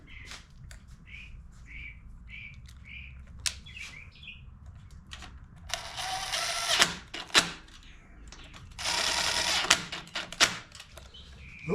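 A ratcheting socket wrench with a 10 millimeter socket works nuts on a Troy-Bilt Bronco riding mower in two bursts of close clicking, after birds chirp outdoors in the background.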